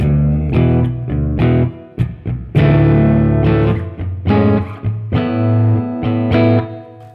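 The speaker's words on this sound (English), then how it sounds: "the next one is a room reverb" Distorted electric guitar is played through a BOSS RV-6 reverb pedal on its room reverb setting, loud chords and riffs with a short, roomy tail ringing after each stop.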